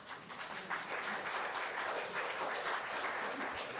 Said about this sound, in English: Please refrain from clapping because we're running a public meeting